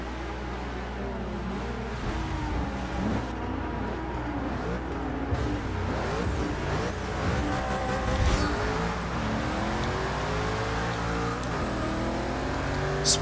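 A bagged Gas Monkey Garage Ford GT in Forza Motorsport 6 accelerates hard, its engine roaring steadily through rising revs and gear changes, close and loud with no talk over it.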